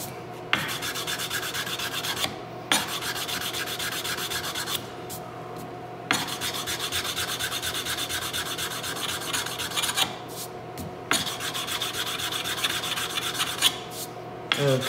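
Sandpaper rubs steadily back and forth across a wooden gun stock from a colonial rifle kit, a close, continuous rasping scrape with a few short pauses between runs.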